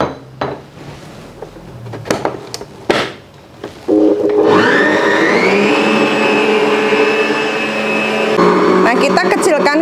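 An electric hand mixer beats banana cake batter in a bowl, a steady loud motor whine running from about four seconds to the end after some clattering of bowl and utensils at the start.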